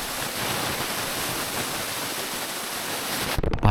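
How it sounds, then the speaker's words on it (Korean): Glacier meltwater rushes steadily like a small waterfall, a broad close-up roar that ends in a few abrupt thumps and crackles as water gets into the microphone. "빙하 위쪽의 얼음이 녹은 물이 빙하를 타고 작은 폭포처럼 흐른다"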